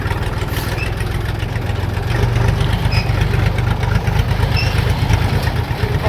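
Kentavr 244SX tractor with a KM385VT diesel engine running while driving between field plots, a loud, steady low rumble with a rapid knocking pulse that swells slightly after the second second, close and unbroken, with no talk.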